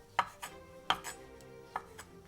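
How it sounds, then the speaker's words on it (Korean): A knife chops through olives on a cutting board, slicing each one in half: three sharp, distinct knocks spaced about a second apart, close and fairly quiet, with soft softer taps between them. "올리브는 반 토막 정도 할까요? 한 번씩만 잘라주는 걸로요."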